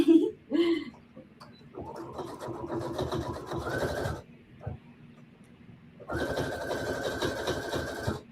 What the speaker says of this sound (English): So we're just sewing top and bottom hem.